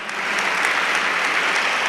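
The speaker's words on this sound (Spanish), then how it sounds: "Le recibimos con un aplauso" Steady applause from a church congregation, a dense wash of clapping held at an even level for a couple of seconds.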